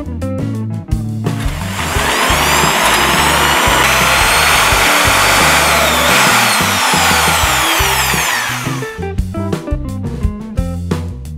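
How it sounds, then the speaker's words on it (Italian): Power drill boring a 4 mm hole into the centre of a lock cylinder's keyway, a loud, steady whine with grinding bite lasting several seconds, starting and stopping with brief handling clatter at either end. "da 4 mm e farò un foro proprio al centro dove si inserisce la chiave"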